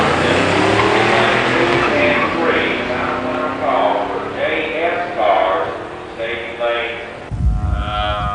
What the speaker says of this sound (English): In the near lane, Tony Tull in an 86 Grand National. In the far lane, Kenny Lee's 85 Mustang 302 5-speed.